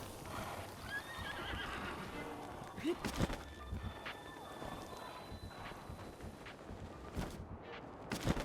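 A horse in Legend of Zelda: Breath of the Wild gives a clear neigh and whinny, with clip-clopping hooves moving under it and game ambience filling the background.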